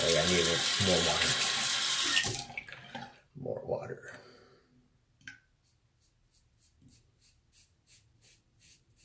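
A sink tap runs strongly for about two seconds during a wet shave with a Razorock Blackhawk razor, then shuts off, followed by a voice talking and small faint taps.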